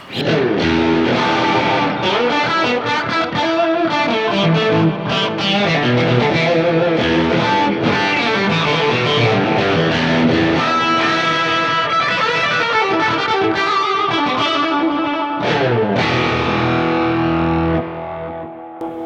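Distorted electric guitar plays a sustained lead line through an amp model with stereo delay, notes ringing out with echoing repeats that trail behind them, played alone, loud and close.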